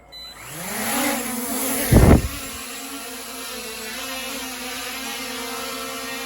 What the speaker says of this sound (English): The next step would be hit the one button takeoff